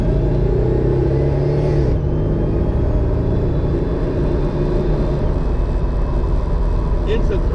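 A 1960 Studebaker Lark with a Borg-Warner three-speed automatic transmission drives along, its steady engine and road rumble heard from inside the car, loud and continuous throughout.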